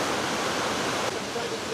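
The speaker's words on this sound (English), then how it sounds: "Take a small pause here so we can admire the river" River in a Costa Rica cloud forest in Puntarenas, rushing as a steady broadband wash of flowing water, close and continuous with no breaks.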